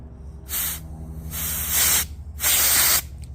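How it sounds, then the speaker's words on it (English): Compressed air blasts through a stuck-open fuel injector from an Audi Q5 3.2 in three sharp hissing bursts, each lasting about half a second with short pauses between, close and loud over a low background hum. "So I'm going to put compressed air on the end of this, and you'll see what's going on."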